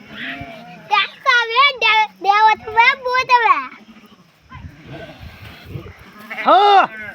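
Sheep bleat close by in a quick series of wavering cries, then pause before one more loud bleat, with faint voices in between.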